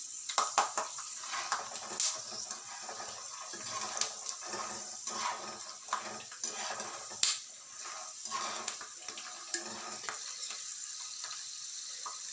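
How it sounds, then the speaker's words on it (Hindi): Almonds fry in a pan with a steady, close sizzle, punctuated by frequent stirring scrapes and clicks of a utensil; no one speaks. "बादाम को ऐसे फ्राई करने से ये क्रंची हो जाते हैं।"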